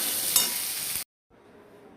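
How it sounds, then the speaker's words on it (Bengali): Potatoes fry in a pan with salt and turmeric, giving a loud, steady sizzle for about a second. It cuts off abruptly, then a quieter sizzle resumes. No one speaks. "আলুটাকে একটু ভাজা করে নিচ্ছি সামান্য নুন হলুদ দিয়ে"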